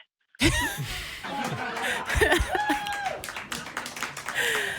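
Audience at a talk about personal gender ambiguity, laughing and clapping together in scattered bursts, mixed with chuckles and a few voices throughout.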